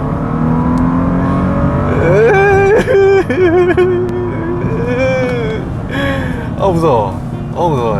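A new Bentley Flying Spur accelerates hard, its engine note climbing steadily in pitch with a brief gear-change dip, while someone talks excitedly over it from inside the cabin.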